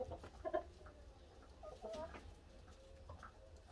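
Laying hens in a coop give a few soft, short clucks at moderate distance, with the loudest bursts near the start and quieter calls later, over low background noise.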